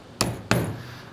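A small hammer strikes a wooden block to tap rope guides into the seat frame of a Pelican 10E. Two sharp, close knocks land a fraction of a second apart, each ringing briefly.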